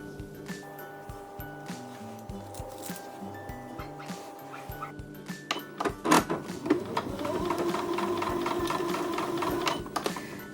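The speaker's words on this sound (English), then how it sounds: "I'm now going to sew these together with a 1/4 inch seam." Sewing machine stitching bias-cut quilt block pieces with a quarter-inch seam, a steady mechanical whir rising midway under dog barks, yips and whimpers, with background music and light talk.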